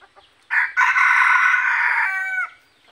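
A newly caught labuyo junglefowl cockerel gives one loud, close crow lasting about two seconds, set against near silence with no talking.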